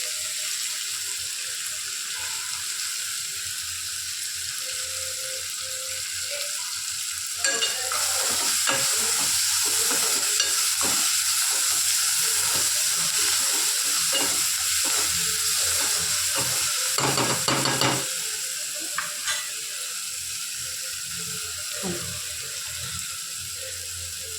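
Rice with coriander is stirred in a frying pan, with a steady sizzle and repeated scraping and clattering strokes of the spoon against the pan that grow louder and busier through the middle stretch.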